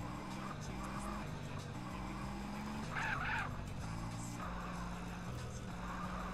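A car drifts in GTA: San Andreas, its tires squealing and skidding in repeated wavering bursts over a steady engine drone, with music playing underneath.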